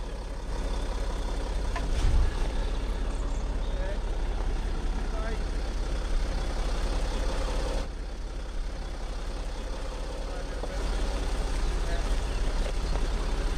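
A Land Rover off-road vehicle's engine rumbles steadily and close at hand, a dense, continuous drone with a brief dip in the middle before it picks up again.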